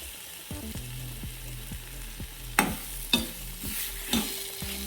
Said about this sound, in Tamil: இப்போ பார்த்தீங்கன்னா இது எண்ணெயிலே நல்லா வதங்கிடும்.